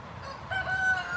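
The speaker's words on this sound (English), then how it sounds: "the chicken, always like runs towards the door" A chicken inside a chicken coop gives a short, fairly loud, clear crowing call from close by, with no talk.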